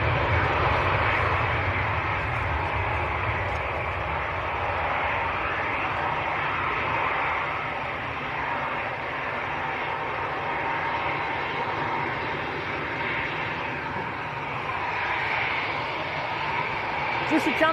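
An easyJet Airbus A320neo bound for Sharm el Sheikh rolls down the runway at Manchester Airport, a steady broadband engine roar holding for the whole stretch at moderate distance with no voices over it.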